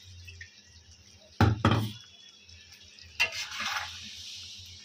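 Water is stirred into fried chicken curry masala in a village-style kitchen, giving two sharp splashing bursts followed by a later wet sizzling swirl, close and moderately loud against a quiet background.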